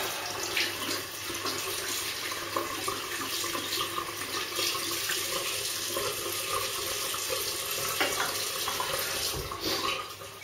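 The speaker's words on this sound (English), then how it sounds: "I'm just going to rinse my brush." Shaving brush rinsed under a running bathroom tap, a steady hiss of flowing water with faint splashing as the brush moves through the stream, close and continuous for the whole stretch.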